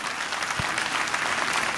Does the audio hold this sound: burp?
no